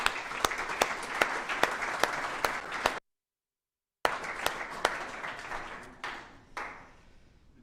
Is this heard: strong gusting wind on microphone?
no